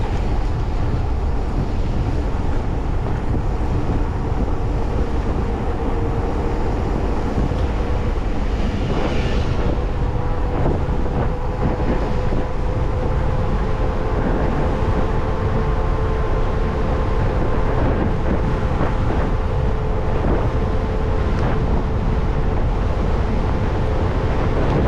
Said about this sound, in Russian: Вот это ветер, капец.